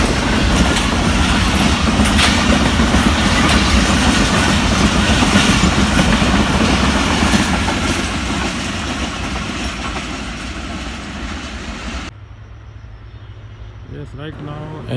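Millet Express passenger train passing at speed in Pakistan, a loud sustained rumble and clatter of wagons that fades away after about twelve seconds, with a voice talking faintly near the end.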